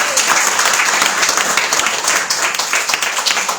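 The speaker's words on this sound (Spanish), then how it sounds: "Yo creo que él se merece un aplauso más fuerte." Loud, dense clapping fills a church in Envigado, Colombia as the congregation applauds with renewed force, a close, continuous roar of hands with scattered cheers.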